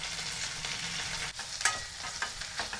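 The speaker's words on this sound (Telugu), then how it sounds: "నూనె వేడైన తర్వాత కట్ చేసి పెట్టుకున్న ఆనియన్స్, పచ్చిమిరపకాయలు," Onions and green chilies fry in hot oil with a steady, soft sizzle and crackle, broken by a few stirring scrapes, heard alone without any voices.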